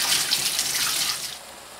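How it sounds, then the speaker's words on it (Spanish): Cold tap water running over canned butter beans in a sink, a soft continuous hiss and splash that eases slightly toward the end. "los vamos a lavar muy bien en agua fría"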